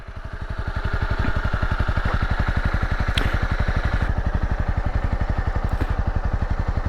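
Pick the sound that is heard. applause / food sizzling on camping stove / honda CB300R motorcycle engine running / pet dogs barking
honda CB300R motorcycle engine running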